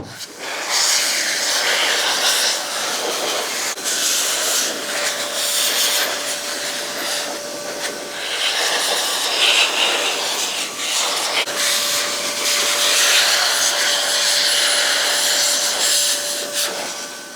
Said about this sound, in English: dry it off and re-lubricate. And the way we're gonna do that today is, well, with the Cowrc Turbo Jet Blaster.